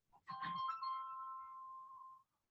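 A mobile phone ringtone sounds once, a steady electronic tone held for about two seconds, fairly faint and unaccompanied, with a brief soft click just before it begins.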